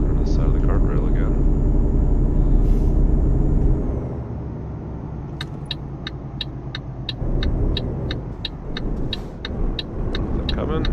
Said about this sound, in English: Exhaust brake slows down a little bit here.